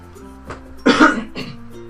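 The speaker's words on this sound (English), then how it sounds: "a bit of a cough there" A single sharp cough bursts out close by, with faint low background hum before and after.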